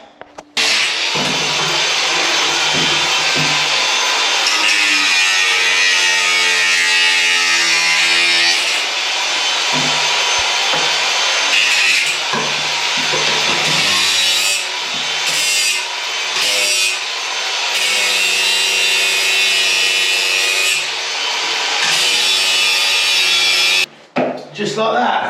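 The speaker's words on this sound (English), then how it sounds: "And I'm just going to get the grinder." An angle grinder grinds off material on a building job, a loud harsh continuous whine with shifting pitch over about twenty seconds, close up, stopping abruptly near the end.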